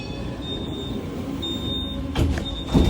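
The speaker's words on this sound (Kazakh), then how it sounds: "Біз мындай трамвайға отырдық." A tram rolls along rails in Poznań, Poland, a steady low rumble of the car in motion with faint tonal whine, building to a couple of louder clunks near the end.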